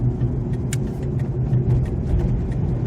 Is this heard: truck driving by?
yes